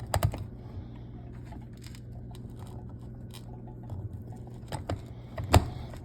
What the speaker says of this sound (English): You just push it in with the rivet gun, squeeze it down a couple of clicks.